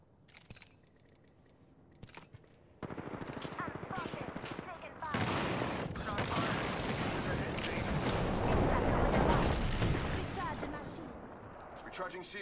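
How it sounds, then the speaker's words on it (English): Gunfire in the video game Apex Legends, scattered sharp shots at first that build into dense, sustained bursts of rapid fire, loud and continuous, with voices talking over it. "Shots fired."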